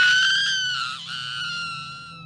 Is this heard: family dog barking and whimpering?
no